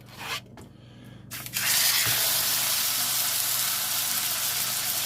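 T-bone steaks drop into a smoking-hot oiled cast iron pan and burst into a loud, steady sizzle that holds strong and close after a brief quieter rustle at the start.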